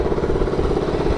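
Small minibike engine running close by with a steady, rapid putter and a slight clattery edge, loud and continuous with no talk over it.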